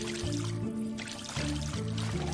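Floodwater keeps pouring and rising in Craft the World, a continuous gushing rush with steady tonal game music underneath.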